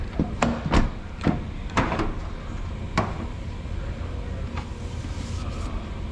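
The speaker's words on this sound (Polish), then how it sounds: "Drzwi się elegancko zamykają." A Citroen C4's car door is shut in a workshop after bodywork repair, giving a few sharp knocks and thuds early on, then quiet room tone.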